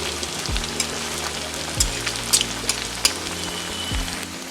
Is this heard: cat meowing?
no